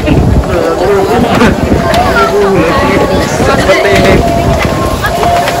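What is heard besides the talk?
strong wind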